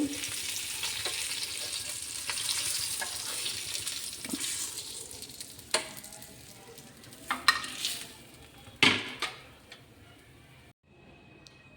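Mackerel (bangude) fish frying in oil on a tawa gives off a steady crackling sizzle that fades toward the end, with a few sharp clinks and taps of a utensil and no talk.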